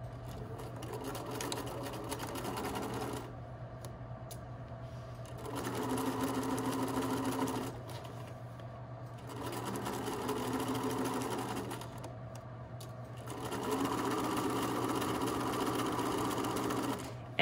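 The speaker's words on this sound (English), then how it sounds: "we're gonna go ahead and sew the facing now to the skirt at 5/8" Sewing machine stitching a skirt facing to a McCall's 8051 skirt at a 5/8 seam, running in three bursts of steady whirring with short pauses between, close and clear.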